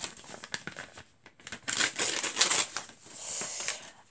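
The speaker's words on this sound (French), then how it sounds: "On va couper l'enveloppe." Scissors cut open a paper envelope up close: crisp snipping and crackling paper in a dense cluster of short bursts, with quieter rustling before and after.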